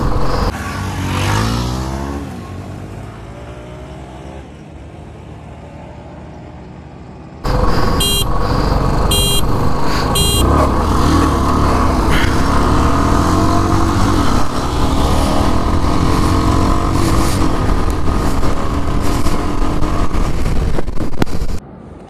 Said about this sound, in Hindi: तो अब करने वाले हम थर्ड ड्रैग रेस